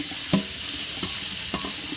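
Cucumber seeds are scrubbed against a mesh strainer under running water, giving a steady close hiss broken by a few soft brushing strokes, with no talking.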